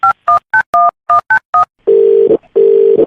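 A telephone keypad beeps through a quick series of evenly spaced dialing tones, then two long, loud ringing tones sound as the call connects, with no voices.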